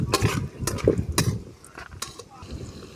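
Peanuts roasting in a pan as they are stirred, with scattered metallic scrapes and clinks from a utensil against the pan at an uneven pace, close and moderately loud, amid soft kitchen background noise.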